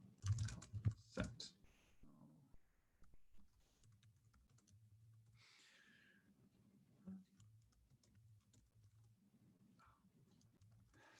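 A brief burst of quick computer keyboard typing opens, loud and close, then fades to faint scattered key clicks over a quiet low hum during a game design talk.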